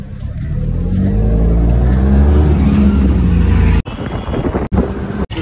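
Engine rumble and road noise from inside a moving auto rickshaw, steady and loud, with gusty wind buffeting near the end.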